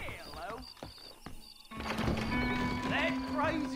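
A horse in the western video game Red Dead Redemption, with hoof clatter and horse calls amid game sound and background music, while a voice talks over parts of it.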